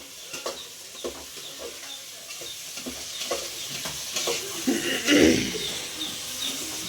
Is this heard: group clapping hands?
no